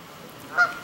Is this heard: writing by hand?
no